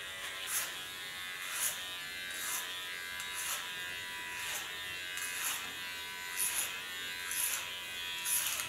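Electric hair clippers trim the undercut and shaved side of an ultra-short pixie cut, giving a close, steady buzz with regular swells about once a second as the blade passes through hair.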